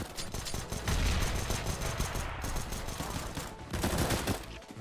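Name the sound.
CZ-75 pistol burst firing in video game CS:GO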